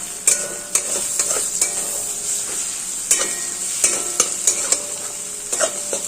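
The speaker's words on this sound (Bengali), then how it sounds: "পেঁয়াজ লঙ্কা ভাজা ভাজা হয়ে গেছে এবার একটু ডিমটা ভেজে নিয়ে তারপরে চাউমিনটা ছেড়ে দেবো" Egg frying in a pan with onion and chilli for chowmein: a steady close sizzle with sharp scrapes and taps of a spatula stirring at irregular intervals, no talking.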